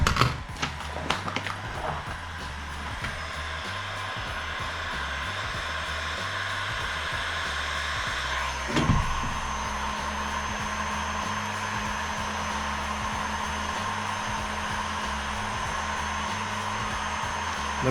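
A heat gun blows hot air onto a pistol magazine, a steady loud whooshing roar that holds throughout after a few opening clicks, with one brief knock partway through.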